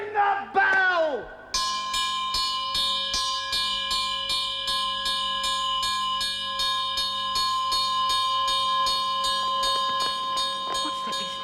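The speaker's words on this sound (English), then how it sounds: "Ring the bell!" An alarm bell rings in a Royal Shakespeare stage production of Macbeth. After a brief shouted voice, loud, rapid clanging strokes repeat steadily for about ten seconds.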